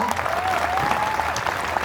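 An audience at a comedy laughter night in Udaipur breaks into applause, a short, full burst of clapping that fills the room, with a faint voice briefly drifting through.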